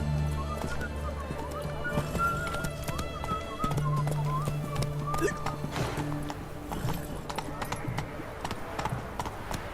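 A horse gallops in The Witcher 3 video game, its rapid hoofbeats drumming steadily up close, with a whinny and music underneath.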